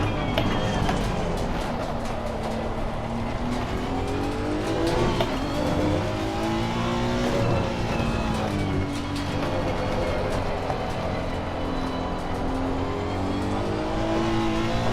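Honda NSX GT3 race car engine on the Catalunya circuit, in a racing sim: a steady, continuous engine drone with rising and falling pitch as it shifts through gears, loud throughout.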